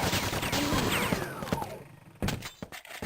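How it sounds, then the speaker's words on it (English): A super shotgun fires during a competitive group-stage video game match, its heavy blasts landing among a dense, loud mix of other combat effects, with sharp bursts standing out partway through before the action thins. "Beautiful super shotgun"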